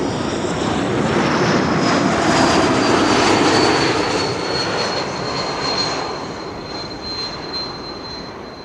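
A KLM jet's engines roar loud and close at Amsterdam Schiphol Airport, a broad rushing noise with a high whine that swells and then slowly fades, with no talking.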